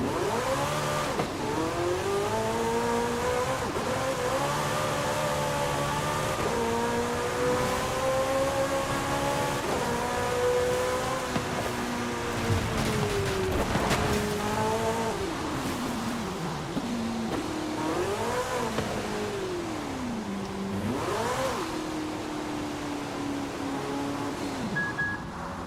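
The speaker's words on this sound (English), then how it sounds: "Alfa Romeo. Even if you don't launch it, you just punch it off the line" Alfa Romeo race car in Forza Horizon 5 punching hard off the line, engine climbing through repeated rising revs with brief dips at gear shifts, loud and continuous with a tire squeal near the end.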